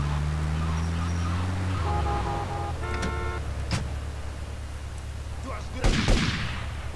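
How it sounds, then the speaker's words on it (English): Grenades exploding in GTA Vice City: two sharp blasts about two seconds apart, the second louder, over steady engine and street noise from the game. "I'm gonna try to use these grenade things."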